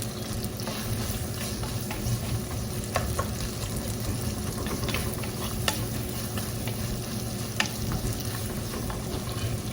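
Cabbage sautéing in a pan over a medium-high flame gives a steady, close sizzle and frying crackle with occasional sharp clicks of stirring throughout.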